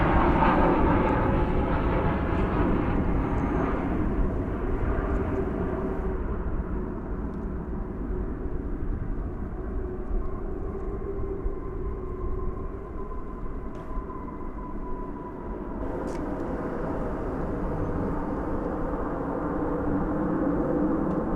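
A passenger airliner, Flight 1959 arriving from Cozumel at DFW Airport, rumbles with a broad steady engine roar, fairly loud and continuous, with no talk over it.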